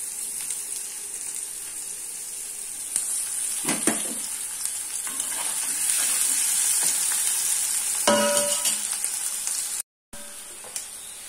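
Fish sizzles and fries steadily in a hot pan, a continuous crackling hiss with occasional stirring scrapes and a short cutout near the end.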